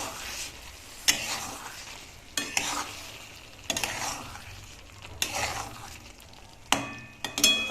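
Matar paneer being stirred in a hot pan, with a steady sizzle broken by several sharp spatula scrapes and clacks against the metal, spaced a second or two apart.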